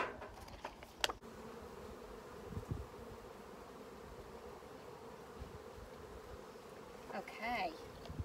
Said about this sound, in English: Let's go into the garden and have a look at the bees.